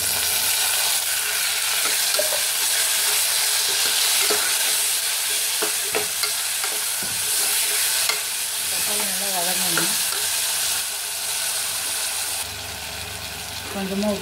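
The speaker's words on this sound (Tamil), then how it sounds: "நல்லா வதங்கட்டும். வெங்காயம் வதங்கிடுச்சு, தக்காளி போட்டுக்கலாம்." Onions and tomatoes sautéing in a pan for a chickpea curry, giving a loud, steady, dense sizzle with scattered stirring scrapes and clicks, close by, continuing for over ten seconds before easing slightly near the end.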